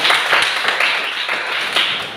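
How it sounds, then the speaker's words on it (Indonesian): A classroom of students claps for a classmate, a dense, steady patter of many hands at close range, loud and continuous throughout. "Nah, tepuk tangan buat temannya Nike."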